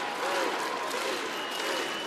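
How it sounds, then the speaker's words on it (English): A WWE SmackDown arena crowd cheers and applauds in a steady, dense roar, a live wrestling audience rallying behind a wrestler throughout. "WWE fans cheering Andrade on."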